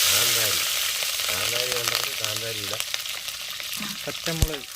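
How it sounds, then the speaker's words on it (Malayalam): Green chilies sizzle and fry in hot oil in a pan for a dried fish curry, a steady close crackle with stirring scrapes and a few clinks, while someone talks over it. "പച്ചമുളക് ഇടുന്നു. അതൊന്ന് വരട്ടുന്നു."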